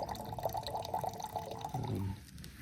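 Water being prepared for coffee at camp on a hike to Pioneer Basin via Mono Pass: a steady trickling, dripping flow of liquid that runs continuously for a few seconds, close by and moderately loud, with no talking.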